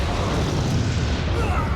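Explosions rumble through a Metal Gear Rising: Revengeance game scene as a dense, continuous, loud roar of booms with heavy low end, sustained for the whole moment without clear breaks.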